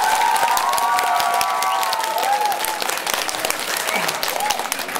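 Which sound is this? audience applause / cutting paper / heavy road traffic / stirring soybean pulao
audience applause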